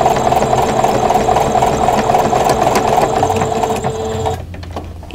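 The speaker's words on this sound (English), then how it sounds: "Now I'm going to backstitch and just stitch right on top of that previous stitching." A sewing machine backstitching over previous stitching on a crochet hook wrap runs in a fast, steady mechanical whir close to the microphone, then stops near the end.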